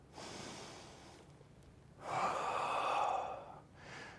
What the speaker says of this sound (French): Respiration ventrale.